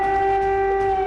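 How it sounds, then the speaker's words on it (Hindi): Air raid siren in Kyiv wails as a steady, sustained tone, a continuous drone with no voices over it. "ये लगभग 14 घंटे के बाद पहला सायरन बजा है अभी।"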